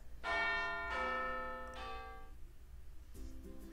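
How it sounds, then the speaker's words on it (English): In the Panzermadels tank dating simulator video game, a school bell rings as three distinct, resonant chimes with ringing overtones that fade, followed by a softer chime near the end, fairly faint overall. "The classroom empties at the sound of the bell"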